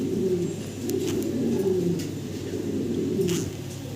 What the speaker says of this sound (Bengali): একটা জোড়া দেখাচ্ছি রেসার কবুতর